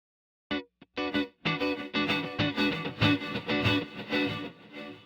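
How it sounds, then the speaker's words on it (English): A delay effect with diffused repeats smears a sequence of bright, dense notes into a continuous reverb-like wash, steady and sustained from about half a second in, with no one talking. "if we diffuse the individual delay repeats, we can get something like reverb"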